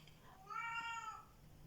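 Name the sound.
elderly cat meowing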